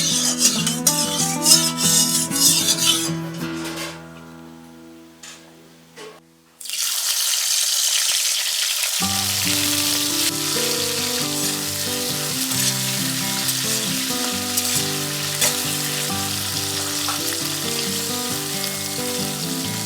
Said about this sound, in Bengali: এবার কড়াইতে 3 থেকে 4 টেবিল চামচ সরিষার তেল দিয়ে মাছগুলি ভেজে নেব।